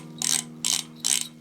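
Three quick bursts of clicking from a bicycle's ratchet freewheel being spun during cleaning, each a rapid crisp buzz of pawls, close and loud over a steady low hum.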